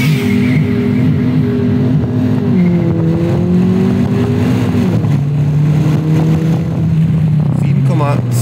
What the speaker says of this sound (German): Beide Autos launchen so schnell, wie sie es können.